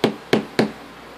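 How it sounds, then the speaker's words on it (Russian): Three sharp knocks on a car door, tapping out an unlocking code, close and crisp with an even rhythm and short pauses between them. "он мог настукать в дверь машины, допустим, код"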